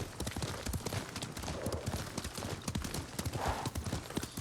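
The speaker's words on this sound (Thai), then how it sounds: "บางทีม้ามันก็วิ่งตามถนนให้เรานะครับ" Horse hooves galloping steadily in the video game Ghost of Tsushima, a fast, even clip-clop rhythm close up and loud throughout.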